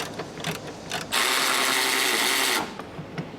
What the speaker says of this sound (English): We're using the 13mm socket on the medium extension, and this is to remove the top mount nut